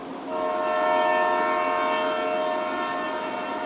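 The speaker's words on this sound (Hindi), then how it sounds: "तभी दूर से ट्रेन के हॉर्न की आवाज़ सुनाई दी।" A train horn sounds in one sustained, steady chord that swells in after a moment and holds at full strength, fairly loud and alone without any talking.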